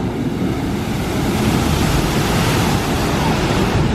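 Water splashing and rushing from the Jurassic Park River Adventure boat ride at Universal's Islands of Adventure, a steady, loud wash of spray and churning water filling the whole moment without a break.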